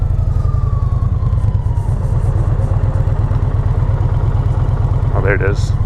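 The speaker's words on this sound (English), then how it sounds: "Sounds more like my V-twin, but there's something about it that reminds me of that BMW too." A 2020 Indian Challenger V-twin motorcycle engine runs steadily and loudly throughout, its dense low throb continuous while the bike moves slowly, with a brief higher-pitched whine or squeal near the end.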